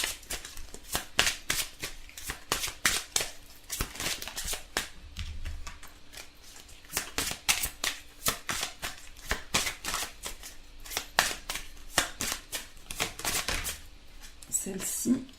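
Oracle cards being shuffled and drawn from a deck in a tarot-style reading, producing repeated crisp riffling bursts and soft card slaps close to the mic, with no talk.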